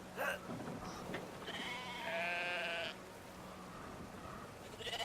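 A sheep in a video game gives one clear, wavering bleat at moderate volume over faint game ambience, with no talking.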